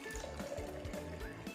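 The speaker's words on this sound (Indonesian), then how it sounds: "kita masukkan air atau isi air tabung pancuran ini" Water is poured into a tabung pancuran, an overflow can used in a density and Archimedes' principle lab, giving a steady close filling and trickling sound with no talk.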